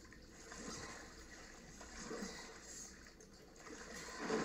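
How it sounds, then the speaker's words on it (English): Faint, steady splashing and trickling water in The Last of Us Part 2, a soft continuous wash that swells gently a few times. "How do you not hear the water splashing behind you?"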